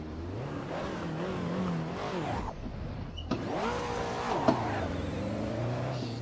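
A car engine in Assetto Corsa, a racing video game, revs up and down repeatedly with rising and falling pitch, loud and steady throughout, with a couple of short clicks and no talking.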